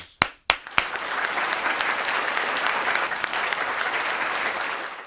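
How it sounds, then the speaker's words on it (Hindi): A few sharp claps start it off, then a full audience at a Hindi poetry gathering breaks into sustained, even applause that carries on throughout. "जोरदार तालियों के साथ"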